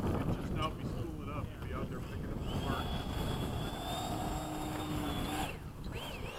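Jet aircraft, a MiG-21 chasing an F-14, passing outdoors as a loud, steady roar with wind buffeting the microphone, a rising tone swelling midway before fading.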